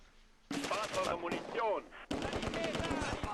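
Bursts of machine gun fire from an MP40 and other infantry weapons in the Close Combat II war game, with rapid rattling volleys separated by a brief gap, loud and close, with mixed gunfire sounds.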